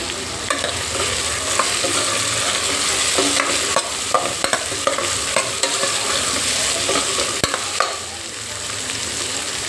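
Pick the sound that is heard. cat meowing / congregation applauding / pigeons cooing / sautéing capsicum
sautéing capsicum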